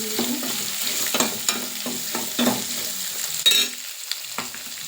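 Onions frying in a pan as the base for a fish curry, a steady close sizzle broken by periodic scrapes and clinks of a stirring spoon, with no talking.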